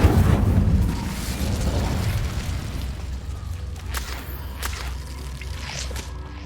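Incendio fire spell in Hogwarts Legacy erupts in a loud whooshing burst at the start, then settles into a fading crackling roar with scattered small pops.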